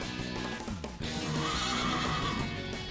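Horses neigh and whinny loudly in a dense, sustained stretch of calls, close and full, with a faint clip-clop of hooves beneath and no talk.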